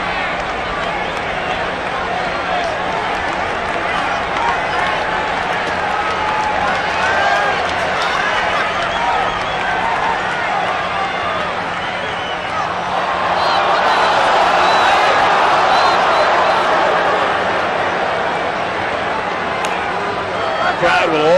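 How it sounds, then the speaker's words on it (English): A large baseball stadium crowd at the 1985 World Series Game 7, Cardinals at Royals, a continuous roar of many voices that swells louder toward the end, under a broadcaster's talk. "The crowd will always chorus balk"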